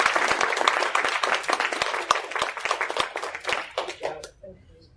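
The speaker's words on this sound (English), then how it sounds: "But if we can give her a nice round of applause." A round of audience applause from students welcoming a guest speaker, lively crisp clapping from a roomful of hands that thins out and stops abruptly near the end, leaving near silence.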